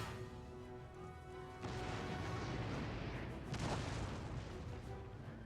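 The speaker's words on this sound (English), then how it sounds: "Try to get one cannon shot off here." Cannon fire booms twice in an Empire Total War battle, low and rumbling over a continuous din of combat, with the second blast the stronger one.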